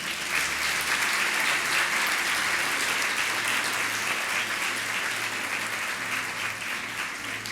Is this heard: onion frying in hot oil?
no